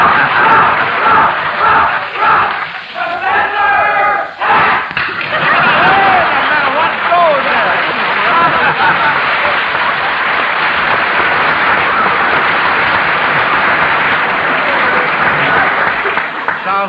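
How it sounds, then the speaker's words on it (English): A studio audience at a radio quiz show for children cheers and applauds in a dense, sustained roar that fills the whole stretch, with a brief dip early on before the crowd swells back loud and steady. "Sounds like the professors have brought their own cheering section."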